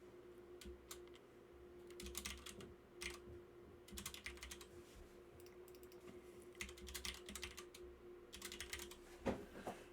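Keys tap on a computer keyboard as a server password is typed, coming in quiet, irregular bursts with short gaps, close by and faint over a low steady hum.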